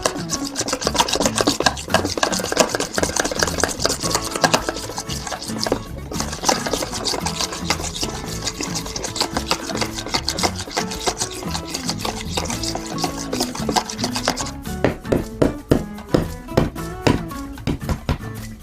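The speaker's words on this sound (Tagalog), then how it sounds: "ito namang egg yolks ang aking gagawin. Hahaluin lang po natin ito." Egg yolks are mixed in a bowl for sponge cake batter, making a steady rasping, scraping churn that runs continuously and turns into sharper rhythmic strokes toward the end.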